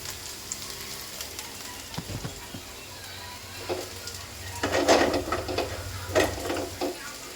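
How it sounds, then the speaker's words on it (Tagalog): Aromatics sautéing in a pan as a base for chayote and squash, with a soft steady sizzle and a few louder crackling bursts toward the end, and no talk over it. "gisa-gisa na natin"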